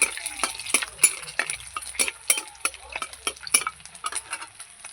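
Nigella seeds and a dried red chilli crackle in hot oil in a pan, with sharp utensil taps and stirring scrapes recurring every half second or so over a soft, steady sizzle.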